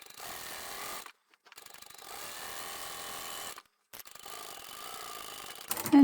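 A sewing machine stitches along the seam of a fabric foldable tote bag, running in three steady whirring bursts split by short pauses, close and mechanical, with no talking.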